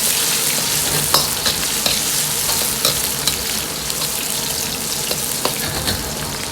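Ginger, scallion, chopped carrot, cilantro and chili peppers stir-fry in hot chicken fat in a wok, producing a loud continuous sizzle punctuated by repeated scraping clacks of the spatula against the metal, with no voices.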